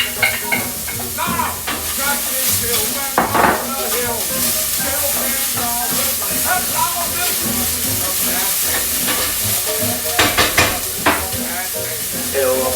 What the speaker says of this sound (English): Saute it real quick.